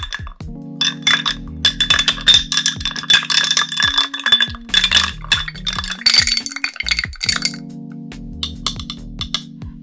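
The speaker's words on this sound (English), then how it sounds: "Now let's add a large ice. And now we're going to stir." A bar spoon stirs a large ice cube in a glass of chocolate Old Fashioned made with Weller Reserve bourbon, giving close, continuous rattling clinks and scrapes for about ten seconds with no talking.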